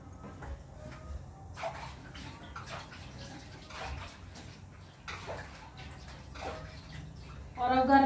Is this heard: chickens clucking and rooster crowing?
no